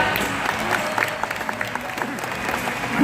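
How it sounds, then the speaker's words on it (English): An audience at SeaWorld claps for young volunteers, a moderate crowd applause carried under faint background murmur and music, steady for the whole stretch with a slight swell at the end. "Let's give them a round of applause, everybody."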